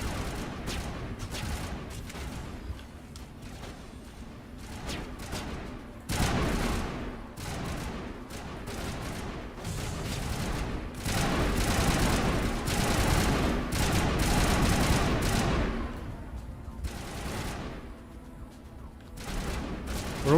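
Rapid bursts of automatic gunfire and shooting in the hero shooter game Deadlock, dense volleys that come and go in waves, loud and close, with brief lulls between clusters of shots.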